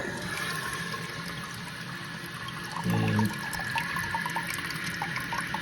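Water runs steadily as a toilet tank refills after the water supply is turned back on to fix a stuck flapper, with a brief louder gush partway through, and the whole sound is moderately faint.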